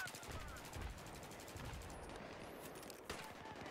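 Assault rifle gunfire in the Battlefield 3 video game, rapid bursts of shots running throughout at moderate loudness, with a sharper single crack near the end.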